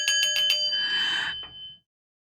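A few quick metallic strikes on a singing bowl lead into a sustained bright ringing tone that fades and stops, close and clear with no voices.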